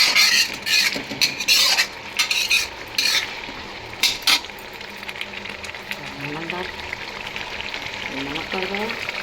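Turmeric, coriander, garam masala and red chili spices are stirred in a hot frying pan, with a utensil scraping and clinking in bursts over a steady sizzle.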